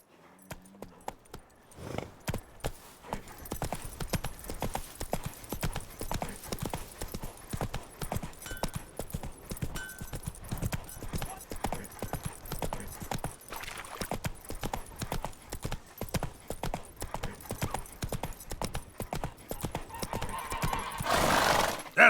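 Roach, Geralt's horse in The Witcher 3, trotting with a steady rapid clip-clop of hooves over ground, close and continuous, with neighing ambience and faint game sounds.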